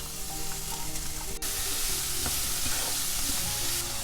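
Finely chopped capsicum and three medium tomatoes frying in a pan, a loud steady hiss of sizzling with a sharp clink partway through and faint stirring scrapes.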